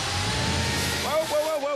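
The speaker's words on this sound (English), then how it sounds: "start the motor, please" A 1949 Chevy 3100 truck engine turns over and catches, a steady, loud rumble with a brief rise and wavering tone near the end, heard up close in a shop.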